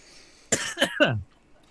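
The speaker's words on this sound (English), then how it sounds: "That one made me cough." A single harsh, close cough in two or three quick bursts, breaking a near-silent background.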